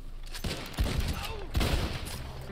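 Shotgun blasts in the Red Dead Online game ring out in a short fusillade, three heavy booming shots spaced under a second apart, loud and close with a ringing tail.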